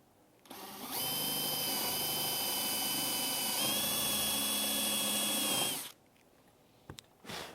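A power drill runs a unibit step drill bit through a slot car box, whining loud and steady for about five seconds with a slight pitch drop midway, then stopping abruptly, followed by a few faint clicks.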